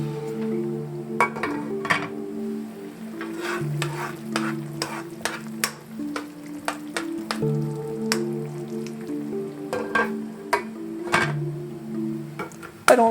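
Penne pasta being stirred in a pot with Italian seasoning: repeated scraping, clinking strokes of a spoon over a steady low bubbling, moderately close, with no talking.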